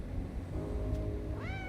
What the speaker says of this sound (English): I like the little tar cat.